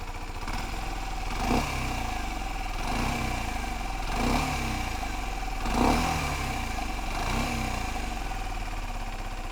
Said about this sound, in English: This is how a 125 should sound.